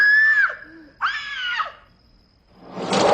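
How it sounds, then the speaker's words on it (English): A woman in the film Live and Let Die lets out two loud, close, high-pitched screams in quick succession, each trailing off in a falling wail, followed by a rushing noisy burst. "She screams at anything."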